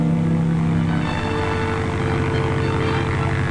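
A small Piper Cub propeller airplane flies past, its engine drone steady and fairly loud with a rough buzzing tone throughout, no voices present.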